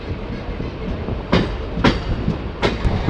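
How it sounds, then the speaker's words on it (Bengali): A MEMU passenger train on the Rampurhat–Azimganj line picks up speed, its steady rumble punctuated by three sharp rhythmic clickety-clack wheel hits over rail joints, heard close and loud with no talking. "ট্রেনটা স্পিড নিয়েছে।"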